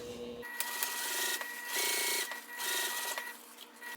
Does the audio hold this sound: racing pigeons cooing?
no